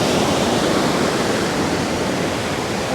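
Water pours over the dam at Mammoth Spring in Arkansas, a loud, unbroken broadband roar close by with no voices.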